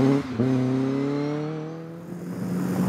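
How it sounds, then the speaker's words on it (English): A 2-litre Ford Duratec four-cylinder engine in a Caterham Seven 420 Cup drones steadily with a smooth, rising then easing tone, a small four-cylinder hum close by with no talking. "Under that long, slender bonnet is the tried and tested 2-litre Ford Duratec engine"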